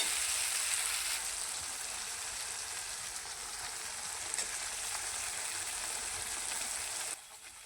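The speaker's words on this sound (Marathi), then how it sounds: "मसाला फ्राय झालेला आहे" Masala spices frying over a low gas flame, a steady close sizzle and crackle that runs unbroken for about seven seconds and then drops to a quieter hiss near the end.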